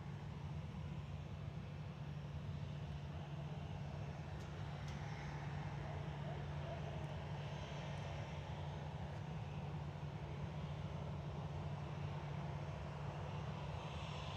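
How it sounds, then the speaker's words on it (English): Ryanair Boeing 737-800 arriving from Budapest to land at Manchester Airport, a faint, distant steady engine drone with a low hum throughout, no voices. "Ryanair 8357 from Budapest coming in. EKL 737-800."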